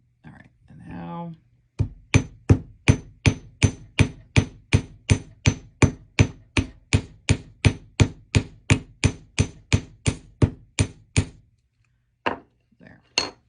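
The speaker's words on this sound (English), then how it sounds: "see if there aren't any areas where my hammer's blows on the other side didn't take" Metal hammer strikes on jewelry wire, a steady run of about thirty sharp, close blows at an even pace, then a pause and a few more taps. Brief handling noise and a little speech come before the hammering.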